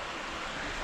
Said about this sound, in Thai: มองไปเป็นลำธารนะครับ